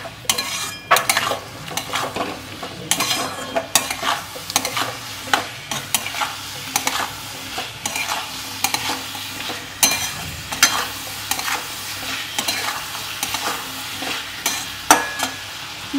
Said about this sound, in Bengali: এবার আমি এই মশলাটা এই আলু আর পেঁয়াজের মধ্যে দিয়ে দেব। ভালো করে এটাকে কষিয়ে নেব।